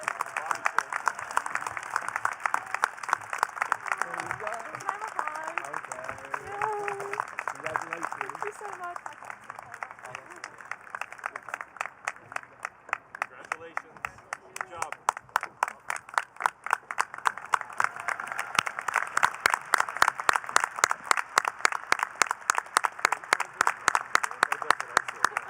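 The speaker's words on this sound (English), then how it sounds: "Let's give a big round of applause for Danya." Graduation audience at Redmond High School's 2021 ceremony applauds for Danya, a sustained wash of many hands clapping that builds into dense, rhythmic clapping toward the end, loud and continuous throughout.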